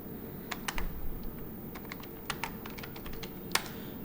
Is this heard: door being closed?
no